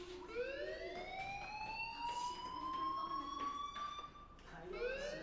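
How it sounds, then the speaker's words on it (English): School fire alarm in the video game Life is Strange, a rising, wailing electronic siren tone sweeping upward and holding, fairly faint and distant, restarting near the end. "do you hear that fire alarm?"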